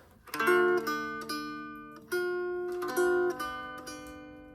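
A twangy cigar box guitar strums ringing chords, with notes pulled off between strums in a short, loose riff played alone.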